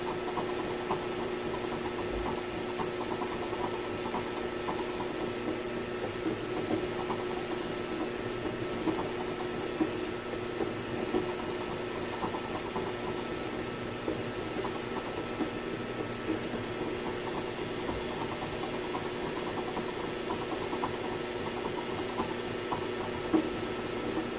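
A drill bores slowly into an acrylic pipe stem, giving a steady mechanical whir with a faint buzzing vibration that runs evenly throughout. It is moderately quiet and continuous, and no one speaks.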